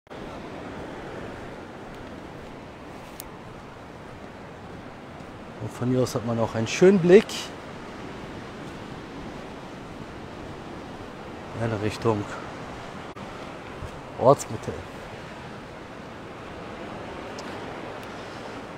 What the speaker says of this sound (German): Und das Wasser ist sehr aufgewühlt,